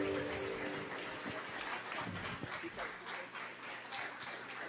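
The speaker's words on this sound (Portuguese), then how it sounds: "Se é para Jesus, aplauda ele mais forte." A church congregation applauds, giving a dense wash of clapping with faint voices mixed in underneath.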